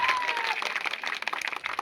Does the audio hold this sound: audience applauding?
yes